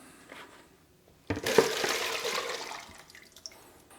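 A water and alcohol mix poured out of a mold container, a brief splashing gush starting abruptly and trailing off into drips, close and moderately loud with no talking.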